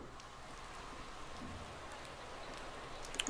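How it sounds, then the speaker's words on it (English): Steady rainfall in the racing management game Motorsport Manager, an even, continuous hiss of falling drops at moderate level with a faint tick near the end. "indeed it is raining as expected"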